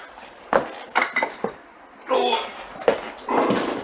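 Blitzed Irish stew going into a cooking pot, with clinks and scrapes of utensil on metal and soft wet slopping sounds in bursts, close and moderately loud.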